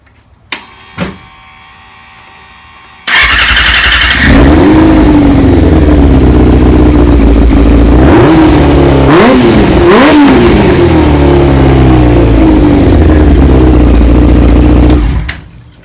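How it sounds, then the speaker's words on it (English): A race car engine fires up after a few clicks, then idles loudly and revs repeatedly in rising and falling sweeps, close and sustained before cutting off. "Y'all hearing the motor, all right?"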